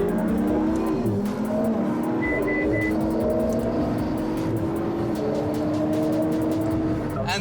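A McLaren and a Ferrari 488 race each other, engines revving loudly with rising gear-change whines, tire squeal and car noise, close and continuous throughout.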